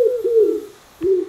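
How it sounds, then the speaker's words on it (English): A pigeon coos close by in two soft, low, drawn-out phrases separated by a short pause. "Pigeon."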